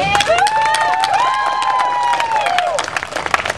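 Crowd applause and cheering at an Asian Pacific American immigration reform rally, steady clapping with whoops and high shouts rising over it, loud and sustained throughout.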